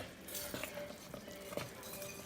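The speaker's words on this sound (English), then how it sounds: "Just want to stir that up and melt it in" Parmesan cheese being stirred into thick, bubbling quick-cook grits in a pot, with soft repeated scraping strokes and faint clinks of the spoon over a low steady simmer, close and quiet.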